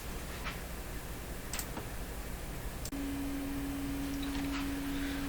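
Faint ticking gives way to a steady, low, continuous test tone from an audio generator, played through the speaker of an Electrohome Cosmic tube radio and holding evenly to the end.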